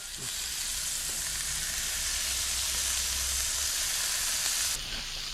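Mud lobster, a blueclaw crayfish, sizzles hard with garlic and butter in a hot skillet: a loud, continuous frying hiss close up that shifts slightly near the end as the pan is moved.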